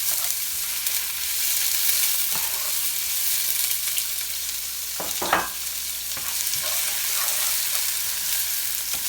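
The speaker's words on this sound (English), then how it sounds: "I'm going to put the onions in here next. Just some thinly sliced onions. Get them going." Thinly sliced onions fry in a hot pan for shrimp biryani, giving a loud, constant sizzle with a few scraping clatters of stirring midway and no talk.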